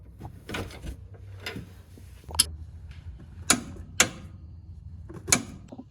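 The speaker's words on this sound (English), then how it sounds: "Now we torque this front lower control arm bolt to 90, I think, foot-pounds" A torque wrench tightens the front lower control arm bolt on a Jeep Grand Cherokee. Several sharp, close clicks and ratchet ticks ring out at irregular intervals over a quiet background.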